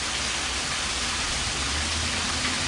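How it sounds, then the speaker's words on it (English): Heavy rain pours steadily onto a porch, a dense, continuous hiss of water with no breaks, loud and close throughout with no voices. "It's raining way too hard."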